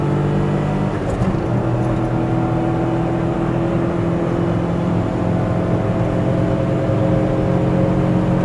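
Steady in-car drone of a car's engine pulling in fifth gear toward 100, on a car fitted with 14-inch tires, with road and tire noise and a tailwind, continuous and fairly loud throughout.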